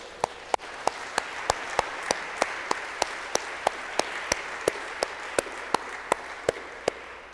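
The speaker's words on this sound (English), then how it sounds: "Should we clap for Jesus and Mary?" Audience at a Catholic religious talk claps in a steady, evenly spaced rhythm, about three sharp claps per second for several seconds. The claps are crisp and close, with no voices.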